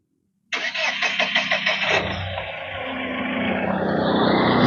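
A Mahindra Xylo's engine cranks briefly, then catches and settles into a steady idle that gradually grows a little louder, recorded close by.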